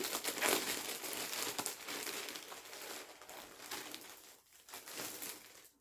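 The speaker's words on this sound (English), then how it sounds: "there's some crinkling" Packaging crinkles and rustles close up in steady, busy bursts, loudest early on and trailing off briefly near the end, with no one talking over it.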